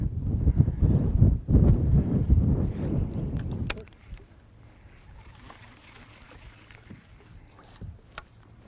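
Wind blows across a lake during a fishing outing, with heavy rumbling gusts buffeting the microphone for the first few seconds and then dropping to a quieter, lighter breeze with faint water sounds.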